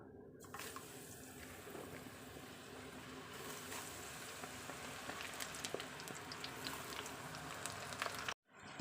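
Macaroni frying in hot oil over medium heat, a steady close sizzle and crackle running almost the whole time before cutting out near the end.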